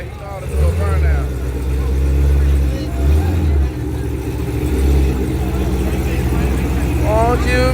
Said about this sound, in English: he know how to do a burnout